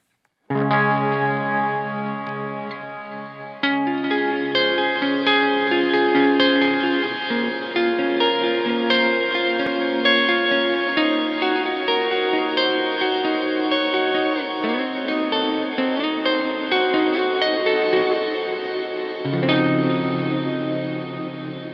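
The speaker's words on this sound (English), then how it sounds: "You also have the option to do like a reverb and delay in conjunction." Electric guitar run through a loop switcher with reverb and delay stacked together, sustained chords ringing out in a lush, washy tail, played alone with no talk.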